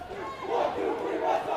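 A big, excited crowd at a high school boys varsity basketball game in West Rutland lets out sustained, loud, voiced shouting that swells and holds from start to finish in an indoor gym.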